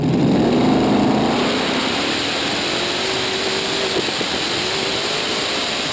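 Multi-engine pulling tractor at a Eurocup tractor pulling event in Hungary, a loud steady engine roar with a rising whine, heard from a distance over continuous crowd and track noise, no talk.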